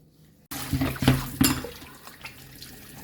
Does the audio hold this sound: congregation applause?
no